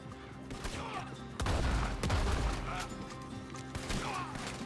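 Enemy gunfire in a Red Dead Redemption 2 shootout, a dense run of shots and impacts that swells around the middle with heavy low booms, set over game sound with some voice.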